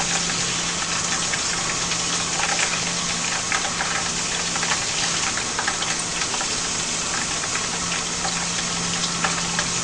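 Tap water pours in a loud, steady gush close by while salmon is rinsed under it, the rushing sound continuous and unbroken, with no speech.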